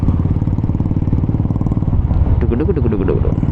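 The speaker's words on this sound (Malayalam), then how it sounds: "ഇങ്ങനത്തെ സൗണ്ടുകളുള്ള ബുള്ളറ്റൊക്കെ കേട്ടിട്ട് കുറേ നാളായിട്ടാണ്." A Royal Enfield Bullet motorcycle fitted with a Punjabi short bottle exhaust thumps at idle close by, a deep rhythmic beat, while someone talks over it.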